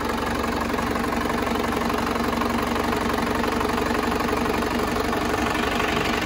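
Isuzu Panther diesel engine under repair, running with a steady loud knocking idle that holds without pause throughout, rough and vibrating, with no clear rise in revs.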